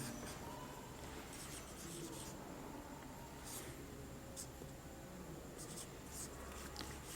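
Faint pen strokes during a grammar lesson come in short scratchy bursts over a low, steady room hum, quiet and intermittent.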